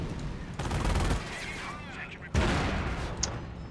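A mortar half-track in a war strategy video game fires incendiary shells, giving repeated crackling, booming bursts of battle noise under a commentator's voice.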